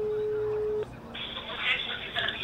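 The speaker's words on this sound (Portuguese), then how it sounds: "Vamos ligar agora." A telephone line tone holds steady for under a second as a call is placed during a Brazilian talk show, then gives way to faint line noise and a brighter hiss.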